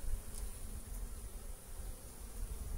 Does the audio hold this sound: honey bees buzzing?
yes